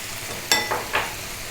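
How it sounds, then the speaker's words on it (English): Onion and garlic frying over medium heat in a pan, a steady soft sizzle with two brief louder scrapes of stirring close by, no voices. "just on a medium heat, we're going to fry this around."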